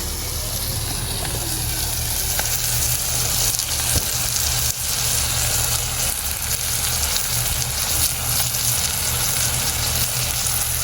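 Fish frying in a pan of hot oil for a Jaffna-style fish curry, a steady loud sizzle with a dense crackling hiss that runs unbroken from start to end, close by, with no talking.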